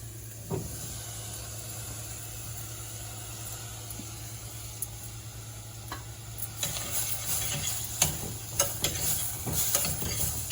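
Ginger-garlic paste fries in a pan under a low steady hiss, and a utensil stirs and scrapes with sharper clicks and taps that grow busier toward the end.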